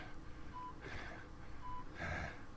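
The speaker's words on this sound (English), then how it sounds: "Listen to the way he's breathing" An injured character in the Batman Telltale video game breathes in heavy, labored gasps, two drawn-out wheezing breaths over a low steady game background hum.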